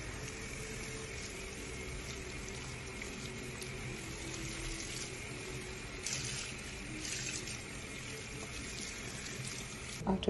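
Running tap water rinsing a client's hair in a salon after a bleach-free highlight treatment, a steady quiet rushing flow with a faint hum and no talking.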